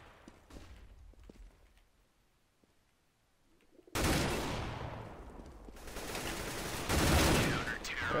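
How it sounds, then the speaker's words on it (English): A flashbang grenade detonates in Counter-Strike: Global Offensive, a sudden loud burst of bright ringing noise cutting in after a quiet stretch of faint game sounds and lingering loudly to the end. "Deploying flashbang."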